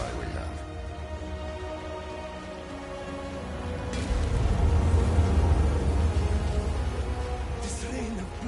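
Steady rain falls as a game-world rain of blood in Diablo 4, a continuous wash that swells louder midway, with low rumbling and a voice speaking over it.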